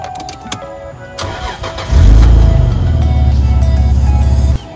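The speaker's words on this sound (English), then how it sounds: "Let's start this car." A Toyota Supra MK4 engine cranks briefly and catches, then settles into a loud, steady idle close by, running alone for a few seconds before cutting off abruptly.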